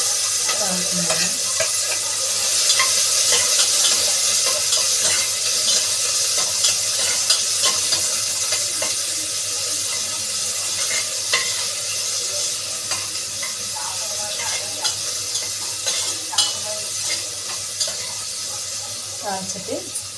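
Oil sizzles and crackles steadily as onion, garlic and tomato are tempered in a pan, with occasional stirring clinks and scrapes throughout.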